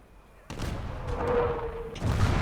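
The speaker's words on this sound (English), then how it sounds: "let's redirect our artillery" Artillery barrage in the Conquest of Normandy street-fighting game: a sudden heavy boom opens into a rumbling roll of explosions, with a second blast near the end and a voice speaking faintly over it.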